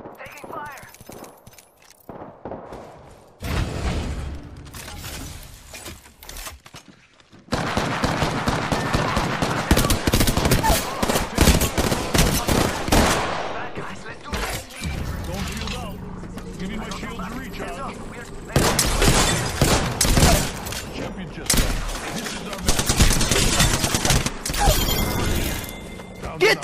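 Apex Legends gunfire comes in dense bursts of rapid automatic shots, with impacts and mechanical clatter in between, all loud and close, while players talk over the shooting.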